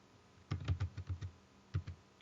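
A computer keyboard clicks as a username and password are typed: a quick run of about eight keystrokes, a short pause, then two more taps, faint and close.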